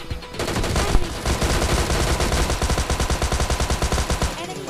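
Rapid automatic gunfire bursts in a sniping shooter game, loud and dense, rolling into a steady rhythmic stream of shots with a dull low thump throughout.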